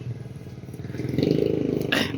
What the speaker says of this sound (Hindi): बाइक्स लगना शुरू हो गई हैं।